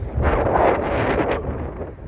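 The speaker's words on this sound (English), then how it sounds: "because it's windy out here today. Really windy." Strong wind buffets the microphone in a loud, low rumbling roar, gusting unevenly throughout with no voices heard.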